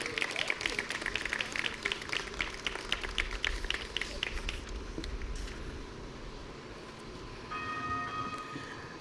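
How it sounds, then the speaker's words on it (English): An outdoor audience applauds at a Berkeley College tree planting ceremony, dense clapping for several seconds that thins out and fades, followed by quieter ambient noise and a brief tonal chime. "Can we give the Lieutenant Governor another round of applause?"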